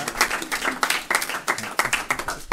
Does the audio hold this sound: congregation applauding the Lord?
yes